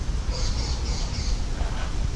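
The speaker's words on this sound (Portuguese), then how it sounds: "Arara piranga, arara canindé." Red-and-green and blue-and-yellow macaws at a zoo squawk in a few harsh, bright calls over steady background noise, with no talking.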